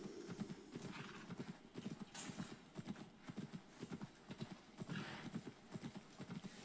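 A horse's hooves clip-clop in a steady, brisk rhythm in the video game Assassin's Creed Valhalla, quiet but clear, with a faint whinny and no talking.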